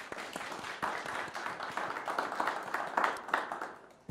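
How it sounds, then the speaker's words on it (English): Applause for a speaker during a cities panel talk, heard as a steady, moderately quiet patter of many hands that tapers toward the end. "So a big clap for Thomas,"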